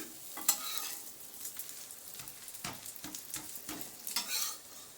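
Buttermilk dosa frying in oil on a hot pan, a steady crackling sizzle with a few close scrapes and clinks of a spatula throughout.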